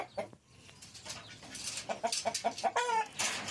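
A hen clucks in a quick series of short, close clucks, ending with a drawn-out cackle.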